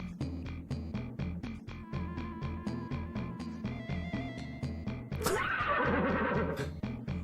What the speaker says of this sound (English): They spent real money putting that horse noise in this Super Nintendo game.